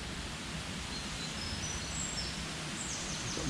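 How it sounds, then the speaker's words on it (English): Faint, high bird song drifts through Worden Woodland in Leyland, a few thin whistled phrases sitting over a steady wash of rushing stream water, with no voices. "We've got the bird song."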